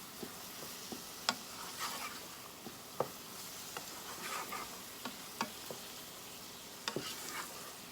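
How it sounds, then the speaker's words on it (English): Wild mushroom soup stirred in a pot, with soft scraping and clicking of the spoon against the pot over a faint simmering sizzle, close and quiet, with no talking. "I'm going to go ahead and mix that back up again"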